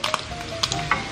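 Food frying in hot cooking oil in a pan, close crackling sizzle with sharp pops and spatters at irregular intervals over a steady background hiss.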